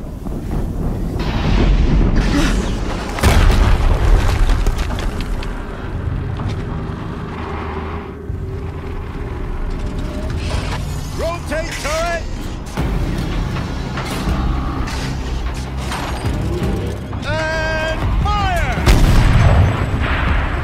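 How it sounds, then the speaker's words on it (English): Horizon Zero Dawn gameplay brings loud, dense explosions and rumbling blasts layered with wind-like roaring and game music, building in a continuous, heavy wall of sound across the whole stretch. "Another explosion."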